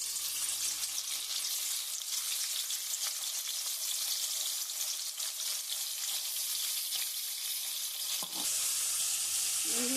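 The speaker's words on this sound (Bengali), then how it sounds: "এবার আমি তেলটা দিচ্ছি, মাছটা ভাজবো" Salted, turmeric-rubbed fish fries in hot oil in a wok in a village kitchen, a steady, loud, close sizzle running unbroken throughout, with a brief clatter near the end.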